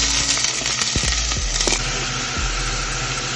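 Onion and pepper trinity sizzling in coconut oil in a pot for Jamaican jerk chicken, a steady close hiss broken by a few clanking stirs and knocks against the pot, no talk.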